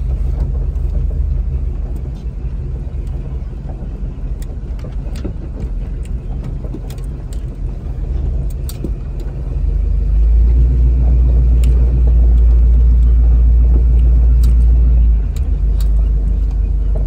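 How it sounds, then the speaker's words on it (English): A 1988 Chevy K-5 Blazer 4x4 crawls along in four high, its engine a steady, loud low rumble that swells and grows heavier about two-thirds through, running alone without voices. "We are crawling now."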